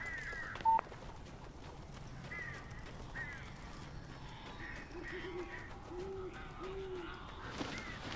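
Birds in the horror video game Alan Wake giving scattered short calls and coos at a faint level over a quiet, dark ambient background, with one brief electronic beep near the start and no talk.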